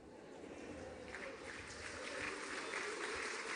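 A packed hall at a 2013 French political rally applauds in a continuous dense wash of clapping that swells slightly toward the end, heard from some distance and fairly soft.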